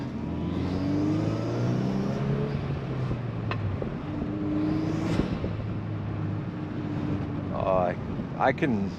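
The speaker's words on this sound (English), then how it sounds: "Let's see if we get some turbo noises for you guys." A Volkswagen Golf R turbo engine revs and accelerates under wind buffeting, with rising and falling whine and a brief voice near the end.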